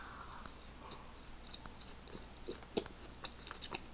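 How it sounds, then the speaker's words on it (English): Someone bites into a mango mochi donut and chews it up close, soft, faint, sticky chewing with a few small crunchy clicks over quiet room noise. "Let's give this a taste."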